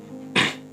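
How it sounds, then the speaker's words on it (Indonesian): A single short, forceful cough right up close, bursting out after a moment of quiet and fading quickly. "Aduh, batuk lagi."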